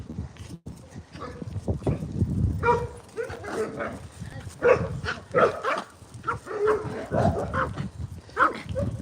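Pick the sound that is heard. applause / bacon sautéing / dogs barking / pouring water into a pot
dogs barking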